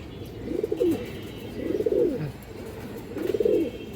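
Three soft, low cooing calls from grizzle pigeons repeat at a steady pace, close by, each a throaty rolling call, with no talking.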